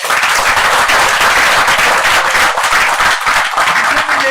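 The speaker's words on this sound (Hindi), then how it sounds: "तो आपके लिए पहले जोरदार ताली हो जाए" An audience at a motivational talk breaks into loud, vigorous applause, a thick continuous roar of clapping that stays strong throughout with no voices on top.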